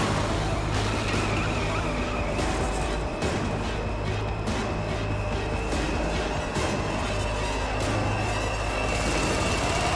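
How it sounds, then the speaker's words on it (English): A car in the Metal Gear Solid V game drives hard and loud, its engine roaring under a dense mix of tyre skids and rough impacts, close and continuous throughout without speech. "when Big Boss starts driving the car halfway through the scene"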